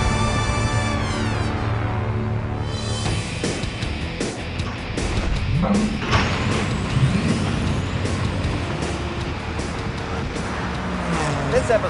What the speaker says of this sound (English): I'm driving a 1963 Chrysler Turbine car. It's powered by a jet engine